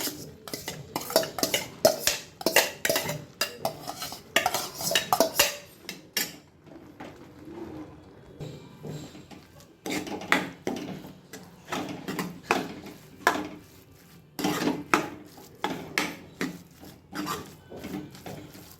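Cooked rice is stirred into tamarind vatha kuzhambu in a pot, with bursts of close scraping and clinking of a spoon against the vessel, pausing briefly before resuming in rhythmic strokes.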